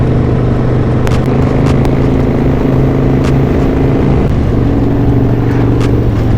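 A motorcycle riding along a road on a curvy route, its engine a loud, steady low rumble close to the rider with constant wind noise, alone without talk.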